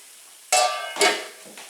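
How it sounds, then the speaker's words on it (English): Onions sizzle in a hot pan while being sweated for chicken tikka masala, with two sharp bursts of frying hiss as they are stirred, then a softer third sizzle, close and clear with no talking. "let the onions sweat just until they're soft"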